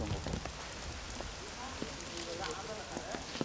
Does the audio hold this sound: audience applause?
no